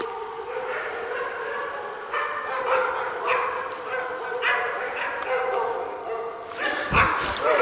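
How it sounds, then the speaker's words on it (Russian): Several dogs barking in the Siberian taiga on a walk toward a meteorite fall site, with repeated barks and yips over a steady background noise, some nearer toward the end, while people talk. "Вот собаки."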